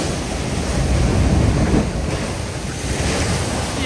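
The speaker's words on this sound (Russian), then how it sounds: "Итак, мы ожидаем парочку волн." Waves break on the shore at Lazarevskoye, Sochi, in a loud, close, rushing wash with wind noise on the microphone, swelling and fading without talk.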